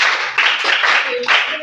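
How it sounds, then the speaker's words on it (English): Hands clapping in a room during a school ambassador challenge, a short burst that swells twice over about two seconds, with voices mixed in among the claps. "Round of applause for her."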